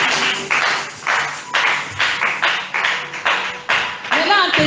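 A church congregation claps in a steady, even rhythm of sharp close bursts that repeat roughly every half second, with voices mixed underneath.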